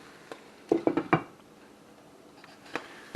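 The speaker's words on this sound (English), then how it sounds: "I'm gonna throw the lid back on her here and let her cook a little longer" A metal pot lid is set back onto a pan during an early-morning breakfast cook, giving a few quick clanks and rattles close by, followed by faint kitchen clinks in a quiet room.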